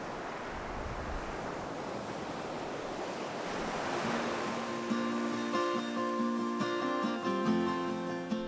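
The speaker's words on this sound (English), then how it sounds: "where the sea and wind strip away the land with no mercy" Sea waves and wind on the Yorkshire coast near the Humber estuary, a continuous broad wash of surf and blowing wind with no voices, later joined by soft sustained musical tones.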